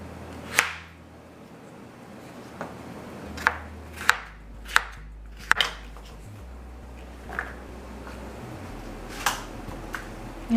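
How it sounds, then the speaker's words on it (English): A knife cuts homegrown garden squash into cubes on a board, giving about a dozen sharp, close chops at an irregular pace with quiet pauses between them. "You just have to cut them in cubes."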